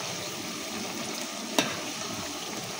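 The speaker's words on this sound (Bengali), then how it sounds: "এই পেঁয়াজ রসুন সবাই যে ভাজা হচ্ছে" Onion and garlic fry in plenty of oil, a soft, steady sizzle with light stirring, punctuated by a single sharp clink of a utensil midway.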